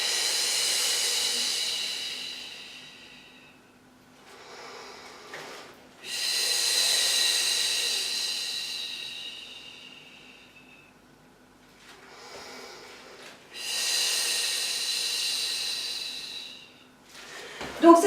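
Loud, close breaths during a standing advanced Pilates core session with an elastic band: three long hissing exhales at a slow, even rhythm, separated by softer inhales, with no talk over them.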